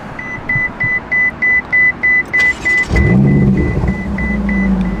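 A crash-damaged, rebuilt Ferrari California T: a steady run of electronic chime beeps, then the engine fires up with a sudden loud roar and settles into a deep, close idle rumble.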